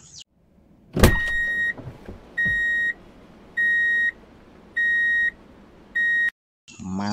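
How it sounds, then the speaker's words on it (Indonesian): A dredger truck gives five steady, evenly spaced electronic beeps, each about half a second long, after a sharp thump at the start, with low engine rumble underneath. "Hehehe, truk pengeruk."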